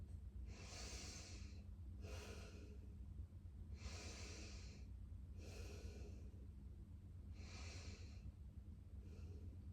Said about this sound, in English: We take 3 more cycles of breath.